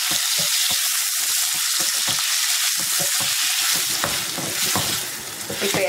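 Loud, steady sizzling of taro root and onions sautéing in a pan, with scraping and stirring sounds breaking in now and then.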